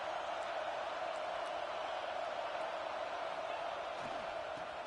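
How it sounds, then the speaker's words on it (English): Stadium crowd at a football game in Texas roars as a continuous, distant wash of cheering and noise, with no clear single voices standing out. "this crowd is fired up. Listen to this noise here."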